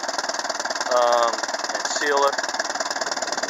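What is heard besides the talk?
1952 Ferguson TO-30 tractor engine idling with small exhaust leak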